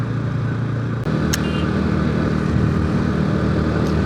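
A friend's motorcycle being ridden along a highway on the Rampur to Tatopani route, with a steady loud engine drone and heavy wind rumble throughout and a brief dip near the first second.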